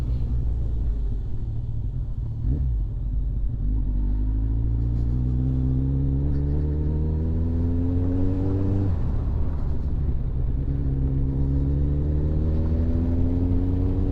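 Heavy traffic on a congested multi-lane road, a continuous low rumble of engines with vehicles accelerating and rising in pitch, loud and close with no talk.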